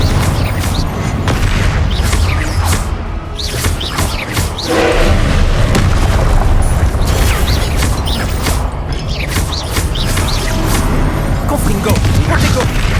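Confringo spell blasts boom repeatedly in Hogwarts Legacy combat against dragon poachers, dense loud explosions and crashes mixed with mechanical clatter and thuds over about thirteen seconds, with speech.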